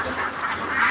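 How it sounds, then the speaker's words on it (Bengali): Ducks quacking and honking together at evening feeding time, a steady, excited chorus of nasal calls that fills the whole moment at close range with no talking. "হাঁসগুলা সন্ধ্যার সময় খাওয়ার জন্য পাগল হয়ে গেছে গা।"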